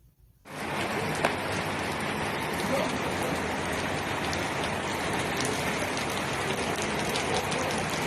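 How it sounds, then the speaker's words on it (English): Heavy rain pours steadily on surfaces in Baybay City, a dense, loud, continuous hiss that starts abruptly and holds even throughout, with no voices heard. "It's heavy rain"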